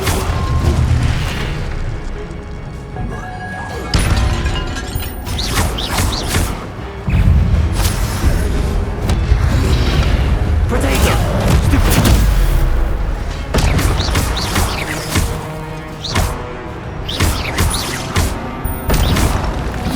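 In Hogwarts Legacy, the Incendio fire spell is cast again and again, with loud booming bursts, crashes and thuds crowding a dense, chaotic combat mix that runs unbroken for the whole stretch.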